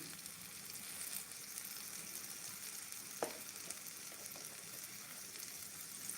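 Pumpkin pancakes fry in a good pan on a weak, low-powered stove, giving a soft, steady sizzle throughout with one brief clink of a utensil midway.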